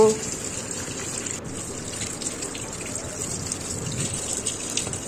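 Tap water runs steadily into a kitchen sink while eggs are washed, a continuous close gushing hiss with faint background sounds.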